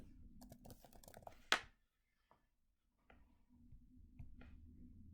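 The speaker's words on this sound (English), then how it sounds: "I can type the term into the field, hit browse" A search term is typed on a computer keyboard in short, quiet bursts of clicking keys, with one louder keystroke and a brief pause partway through.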